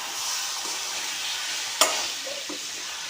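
Chicken gravy masala sautés in a pan, making an even, continuous sizzle with one sharp utensil clink partway through.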